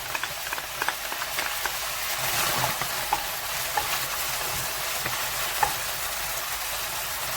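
Aromatics fry in a pan for an Indonesian curry with a steady close sizzle, occasional stirring scrapes and light pops, and no voices.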